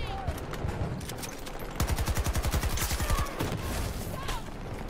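Rapid automatic gunfire in the shooter game Battlefield 2042: a dense, loud burst of evenly spaced shots in the middle, with scattered game noise and distant firing before and after.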